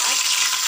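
Onions frying in hot oil, a loud close, continuous hiss that holds steady without a break.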